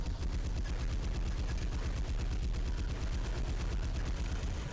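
Rapid mech weapon fire in the video game Armored Core 3, a dense, loud, steady stream of shots pounding without pause, with no talk over it.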